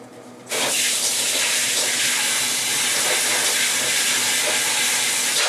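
Water rinses down a screen printing screen, starting abruptly after a brief quiet moment and then running as a loud, steady, broad hiss of spraying water to the end.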